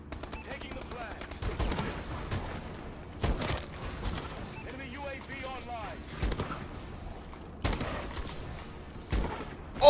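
Gunfire in a shooting video game arrives as short sharp volleys spaced a couple of seconds apart, moderately loud, with a player talking between and over the shots.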